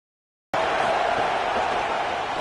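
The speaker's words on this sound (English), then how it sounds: "Third down and the crowd really getting in." A stadium crowd in an American football video game roars in a steady, dense wash of cheering that begins abruptly after silence and continues at even loudness.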